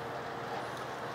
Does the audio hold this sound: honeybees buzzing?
no